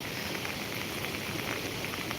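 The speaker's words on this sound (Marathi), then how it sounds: "तुम्ही आता जे पाहिला पाऊस इथला तो काही थांबायचं नाव घेत नाही आहे" Heavy monsoon rain at Koyna pours down steadily, a dense, even hiss of drops on surfaces with no pauses or voices.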